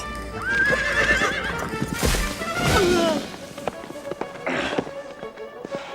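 A horse whinnies loudly over rapid clip-clop hoofbeats, followed by sharp crashing and whacking hits, all in a short, busy burst.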